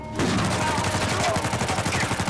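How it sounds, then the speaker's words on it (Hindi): Rapid gunfire in the action video game Uncharted 4: A Thief's End, a dense stream of automatic shots rattling in quick rhythmic succession, loud and close, with no speech over it. "सैम गोली चलाते रहे वरना मेरा सन्नाटा हो जाएगा।"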